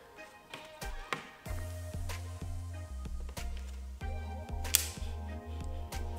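A camera is slid onto the adapter plate of a DJI Ronin SC gimbal, a few scraping clicks followed by a run of sharp, close taps and clacks over a low steady hum.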